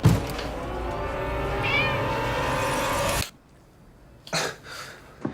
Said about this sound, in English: do you know whose cat this is?